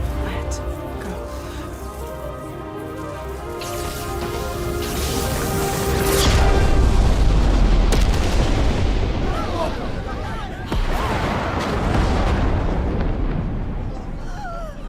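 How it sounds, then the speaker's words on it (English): A massive explosion in a video game rolls in as a deep, rumbling boom that swells loudly midway and lingers under a dense game soundtrack, followed by further crashing debris. "A massive explosion goes off and is seen from the ground, and Miles comes crashing back down to Earth"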